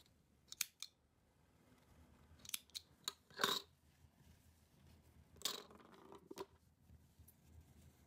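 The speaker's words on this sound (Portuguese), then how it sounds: "Corto o fio." Scissors snip crochet thread close by, several quick, crisp cuts and clicks spread unevenly through an otherwise quiet stretch, with faint handling rustles between them and no talking.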